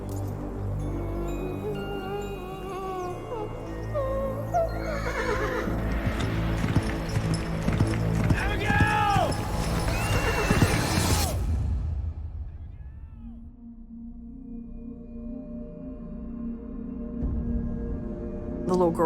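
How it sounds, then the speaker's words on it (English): Horse in a field, snorting and restless with thudding hooves and whooshing movement amid dramatic music, building to a loud crash before the sound drops away to a low drone. "The horse was a little antsy that day."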